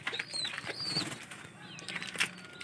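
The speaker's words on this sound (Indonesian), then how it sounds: "ini anakan dari merpati gambir" Young gambir pigeon chicks flap their wings in short, soft fluttering bursts close by, with faint cooing and chirps in a quiet setting.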